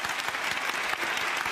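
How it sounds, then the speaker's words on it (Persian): A crowd claps continuously at an Iranian televised show, a steady, dense patter of many hands at moderate level with no voices on top. "به نظرم بیوقفه تشویقشون کنن."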